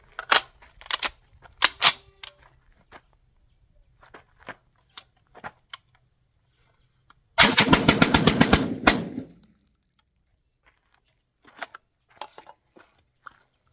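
Tokarev TT12 shotgun fires Remington Gun Club shells at a range in a rapid, loud volley lasting about two seconds, with scattered soft clicks and handling noises before and after.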